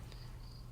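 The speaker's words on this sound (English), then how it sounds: "Crickets. Oh, yeah, crickets." Crickets chirping in a steady, faint, high-pitched trill with short breaks, over a low ambient hum.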